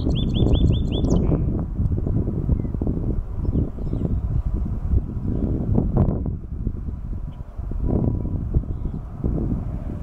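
A belted kingfisher along a Wyoming creek in spring gives a brief, loud rattling call right at the start, then falls silent while gusty wind buffets the microphone for the rest.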